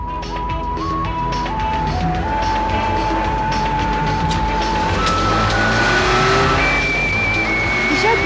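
A car speeds along with a loud engine roar and drawn-out tire squeals and skidding as its brakes fail, the rising whine continuous and close for the whole stretch.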